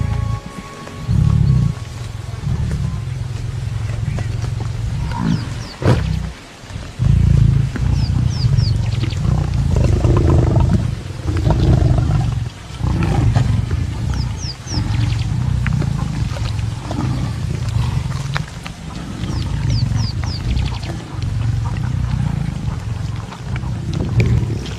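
Lions roar and growl at a kill on the African savanna, a loud, sustained chorus of deep snarls and rumbling roars from several animals, close and continuous with brief pauses, with no speech.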